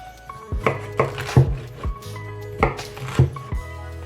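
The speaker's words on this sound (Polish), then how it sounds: "Ananasa kroimy w grubszą kostkę" Canned pineapple being cut into thick cubes with a knife on a board: about seven sharp, irregularly spaced chopping thuds, close and moderately loud, over soft background music.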